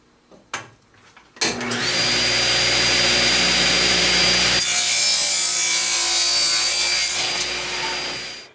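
A power saw spins up and cuts through wood stock pushed against a rip fence, a loud, sustained whining roar lasting several seconds after a few clicks, then winding down at the end.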